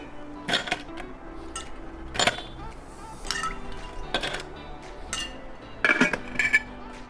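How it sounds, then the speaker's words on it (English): Ice cubes tumbling into a metal cocktail shaker holding whiskey, orange juice and lemon give a run of bright clinks and clatters in several bursts over seven seconds, set against light background music. "Pour some ice."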